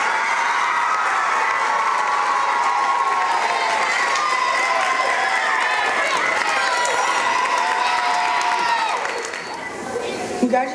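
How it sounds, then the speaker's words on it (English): A school auditorium audience at a middle school award ceremony applauds and cheers loudly, with children shouting and whooping in a dense sustained roar that fades near the end. "Now let's give them all a big round of applause."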